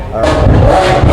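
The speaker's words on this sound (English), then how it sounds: "Sounds like a Lambo." A Lamborghini engine at an outdoor car show revs hard in one short, loud, close burst that sustains a full throaty roar.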